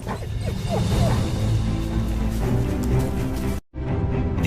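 A shepherd's dogs bark and yelp in the Sierra Morena hills of Spain, set in dense, continuous outdoor noise that briefly cuts out near the end.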